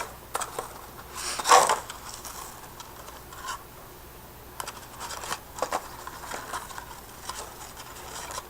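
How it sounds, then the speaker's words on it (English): Paper snipped with scissors while trimming a mini treat box trimmed with gold glitter washi tape, a few close crisp cuts and light rustling at a low level, no voices. "Just cut off that spot right there."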